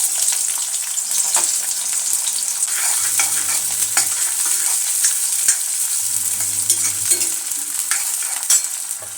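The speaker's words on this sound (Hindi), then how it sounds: "और अभी डालते हैं कढ़ाई में प्याज।" Onions frying and being stirred in a kadai with a tablespoon of mustard oil, a loud steady sizzle with scraping stir strokes running throughout, no talking.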